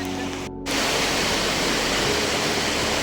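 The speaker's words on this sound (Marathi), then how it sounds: "बाकी तुम्ही धबधब्याचा नजारा बघा. का मस्त आहे धबधबा." A loud, steady roar of rushing water from Dhangar Waterfall in Badlapur fills the scene, broadband and unbroken after a brief dropout near the start.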